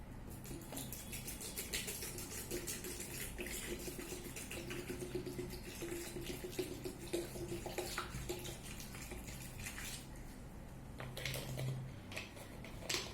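Water poured from a bottle into a plastic washing bowl for vegetables, a steady splashing trickle that runs without a break for the whole stretch, close by and fairly quiet, with no talk over it.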